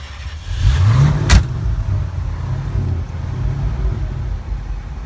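A 1969 International Scout with a V8 engine runs nearby, a brief rev rising and then settling into a steady low idle rumble, heard alone.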